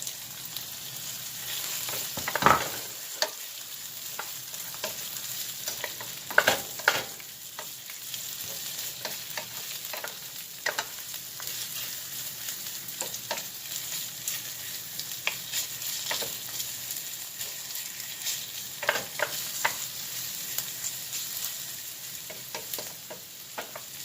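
Ginger fries in a pan for ginataang tilapia, a soft continuous sizzle broken by frequent sharp crackles and spits, close by with no voices.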